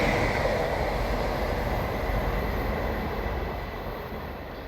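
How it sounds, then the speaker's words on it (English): A TransPennine Express Class 185 diesel train approaching through a station, a loud steady broadband rumble and roar that eases slightly as it goes on, with no voices. "now approaching is the Saltburn to Manchester Airport TransPennine Express with 185"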